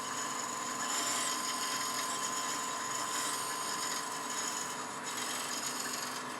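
A bead-turning tool rocked side to side against Bradford pear spindling on a lathe, giving a steady close-up scraping rasp over the motor's constant hum, unbroken for several seconds.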